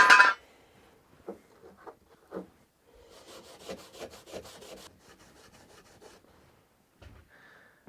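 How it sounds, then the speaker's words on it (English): Clear wax being rubbed into a wooden piece by hand, a series of soft, close brushing and rubbing strokes in short bursts, quiet and uneven with brief pauses. "get a bit of clear wax rubbed into it"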